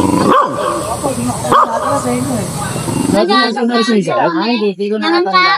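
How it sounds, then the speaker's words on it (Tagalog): A pet dog barks in a few sharp bursts at home, then a voice talks and exclaims excitedly over the noise. "Kuya Aso, nakikisali sa pag-vlog!"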